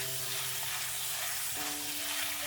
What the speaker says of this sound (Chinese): 油热之后将切好的五花肉倒进来，快速的翻炒均匀，将五花肉的油脂炒出来